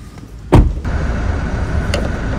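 A single solid thud of a car door shutting on a Scorpio N, close and loud, followed by quieter cabin rustling and a faint click.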